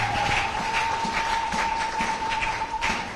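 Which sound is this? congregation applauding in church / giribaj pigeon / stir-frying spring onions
congregation applauding in church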